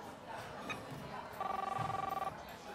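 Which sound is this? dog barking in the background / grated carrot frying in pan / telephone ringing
telephone ringing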